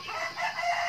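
A free-range rooster crows nearby, a loud, sustained cock-a-doodle-doo call filling the whole short moment.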